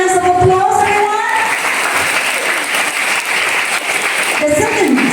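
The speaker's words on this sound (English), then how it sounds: "Let's give your hands of applause, everyone" Audience applause for a judge at a primary school English storytelling competition: steady clapping from a crowd, with a voice speaking over it at the start and again at the end.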